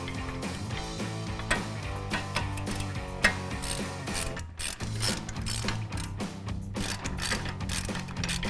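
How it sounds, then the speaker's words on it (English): A ratcheting breaker bar with a 21mm socket clicks steadily against a brake bolt on a 2008-2023 Dodge Charger, a close, continuous metallic pawl chatter with sharper knocks along the way. "we'll have to use our breaker bar and our 21mm socket"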